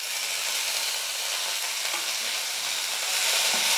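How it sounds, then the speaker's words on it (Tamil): Garlic and small onions sautéing in a pan, a dense, steady, loud sizzle that continues unbroken with faint stirring beneath, close up and without speech. "பாருங்கள், பூண்டு வெங்காயம்லாம் வதங்கிடுச்சு."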